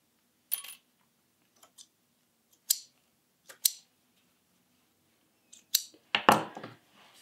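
Small scissors snip sewing threads at the end of a seam, a series of sharp, crisp cuts spaced irregularly, with a few quick double snips near the end, close and isolated in silence.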